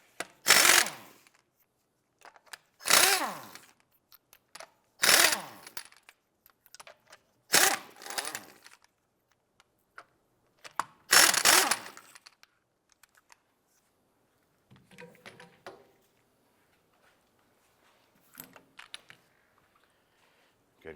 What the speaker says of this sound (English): 19mm socket. Let's go ahead and remove the lug nuts.